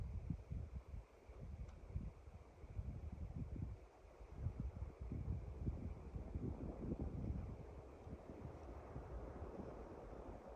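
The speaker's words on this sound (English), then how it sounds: "The wind's trying to blow it out." Wind blowing outdoors beside a small campfire, a low rumbling gusty buffeting that rises and falls continuously against the microphone, faint overall and with no voices.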